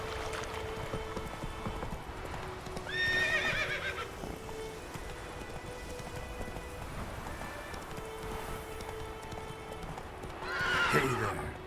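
A horse in The Witcher 3 video game trots along with steady hoofbeats, letting out a whinny early on and another near the end, all fairly quiet and without talk.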